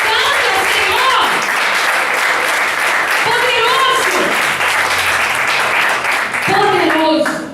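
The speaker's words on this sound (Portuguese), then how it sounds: "Será que você pode aplaudir a Deus?" Church congregation claps loudly and continuously for several seconds, with voices and cheers rising over the applause throughout.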